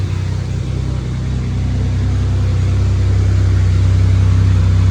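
A Camaro that had sat off the road for years idles steadily, a low, even engine hum that swells slightly as it revs up, heard close with no talking.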